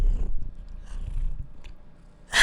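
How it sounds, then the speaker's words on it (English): A house cat purrs softly up close, a low rumbling purr in a quiet room, followed by a brief louder rustle at the end. "I really hope you guys could hear that little purr from her."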